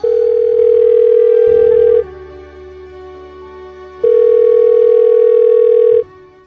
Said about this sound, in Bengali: মেঘকে ফোন দিলাম, রিং হচ্ছে